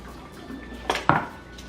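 A can of Hokan coconut milk is shaken in a kitchen, producing two quick close sloshing knocks of liquid against metal after a short quiet pause, with no talking.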